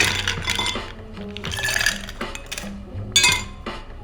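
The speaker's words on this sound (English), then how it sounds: "Now we're just gonna fill our glasses with ice." Ice cubes clink and rattle into cocktail glasses in quick, bright bursts, close by, with a louder clatter near the end as another glass fills.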